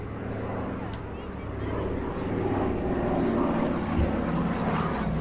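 A Douglas DC-3 Dakota piston propeller airliner with a modified non-standard nose drones steadily at an air festival, its engine roar broad and continuous, swelling slightly louder as it passes.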